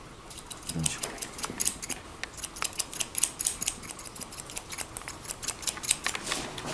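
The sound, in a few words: scissors cutting hair for a mohican haircut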